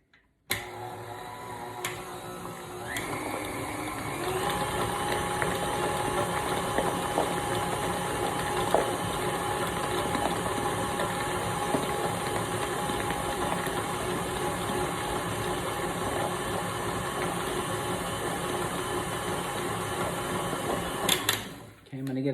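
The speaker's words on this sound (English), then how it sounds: "this is whipping up really nice right now" A mixer whips homemade body butter in a container with a steady mechanical whir and faint clicking that runs for about twenty seconds before cutting off.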